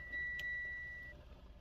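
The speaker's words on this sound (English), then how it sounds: "sorry for the beeping in the background. I got my seatbelt on" A single steady electronic seatbelt warning tone, thin and high, holds for about a second over low engine rumble inside a car, with a brief click near the start.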